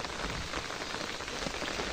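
Steady rain pattering on a surface, a dense even hiss of drops with no voices.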